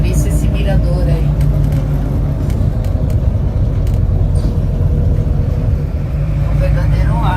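Traffic of cars on a mountain road near Piedra del Águila in Patagonia, a continuous loud rumble of engines and tyres as vehicles pass one after another, with voices talking over it throughout.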